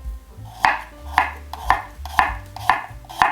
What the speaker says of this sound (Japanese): 今回横薄切りに切っていきます。